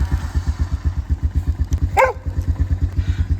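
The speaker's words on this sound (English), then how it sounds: "The only time Oscar barks is when I'm on my quad bike" A single sharp dog bark cuts through the rapid, pulsing chug of a nearby idling quad bike engine.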